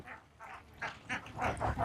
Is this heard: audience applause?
no